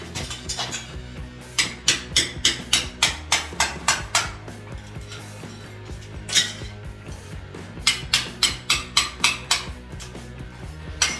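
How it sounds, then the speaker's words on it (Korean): A hammer drives a chisel-style screwdriver to tap ceramic tiles off a bathroom wall by a washbasin, making a long run of sharp, bright metallic clinks in an even, steady rhythm, close to the listener. "망치와 정 드라이버를 이용해서 분리하고자 하는 타일을"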